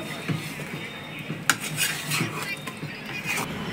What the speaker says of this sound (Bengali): এবারে আবার ভালো করে মিশিয়ে দিচ্ছে